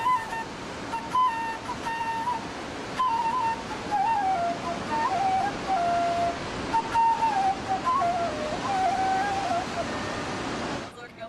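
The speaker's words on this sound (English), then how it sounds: "the students relax to the rushing sound of the Bhagirathi river" The Bhagirathi river near Gangotri rushes with a steady, dense roar, while a thin wavering flute tone drifts faintly above it.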